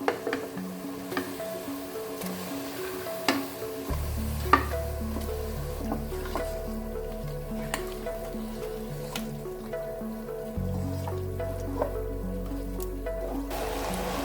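Chicken sizzles and crackles steadily in a hot pot with onions for biryani, with occasional stirring scrapes and a shift in the frying hiss partway through.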